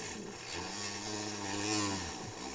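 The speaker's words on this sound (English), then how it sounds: "I'm just going to take my Dremel with a cutoff wheel and" A Dremel rotary tool fitted with a cutoff wheel grinds steadily through a panel during a hidden radio install, a continuous high buzzing whine that holds close and even for a couple of seconds.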